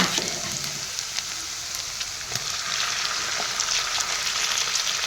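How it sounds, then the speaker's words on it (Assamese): Chicken pieces hit softened onions in a hot pan for a chicken curry, raising a loud, bright frying sizzle that holds steady, with a few stirring knocks. "ইয়াতে এতিয়া মই প্ৰথমতে মাংসখিনি দি দিম"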